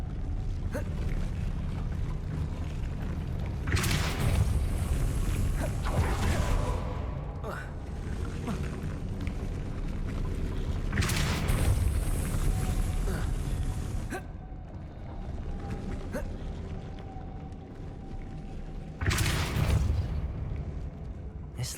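Depulso spell effects in Hogwarts Legacy, with several loud whooshing bursts spaced across the span over a rumbling, creaking background, and a voice speaking at times.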